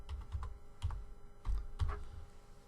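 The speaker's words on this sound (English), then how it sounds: "if I go ahead and start typing, and I'll just type in my name" Keys on a computer keyboard are typed in short bursts of a few clicks each, close and clear, while a name is entered into a monogram design program.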